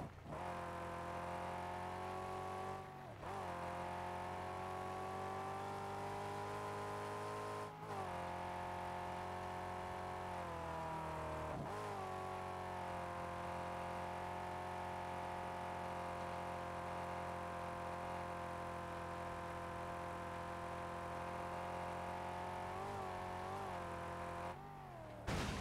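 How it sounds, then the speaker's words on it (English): A car in the Mad Max video game, driven with one wheel missing, gives a steady, loud engine drone with shifting pitch that dips and recovers at a few points, running throughout without talk. "I like how you can just drive it normally with a wheel missing."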